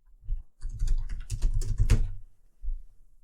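Typing on a computer keyboard while entering an email address and password, a steady run of close, clicky keystrokes with a short pause before a final brief burst.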